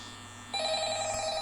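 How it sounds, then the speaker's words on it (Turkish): An old-fashioned telephone bell rings in the horror video game Five Nights at Freddy's, starting suddenly after a quiet moment and ringing steadily and clearly, with no talk over it. "Aç telefonu."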